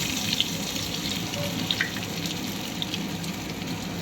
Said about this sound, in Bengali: আলুটা দেওয়ার পর ভালো করে আলুটা ভাজতে হবে।